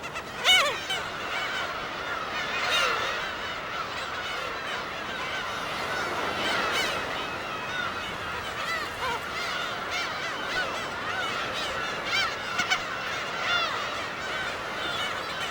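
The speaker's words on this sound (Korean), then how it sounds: "절벽 위 양지 바른 곳에서 일찍 태어난 괭이갈매기 새끼들은" Black-tailed gull chicks calling on a sunny clifftop on Dokdo island: a steady, dense chorus of reedy, honking cries and chatter from many birds, continuous and fairly loud, with no voices.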